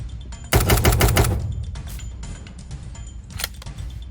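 Rapid automatic gunfire in the video game Voxiom: a loud, dense burst of shots for about a second, then scattered single shots and a short later burst, with no talking.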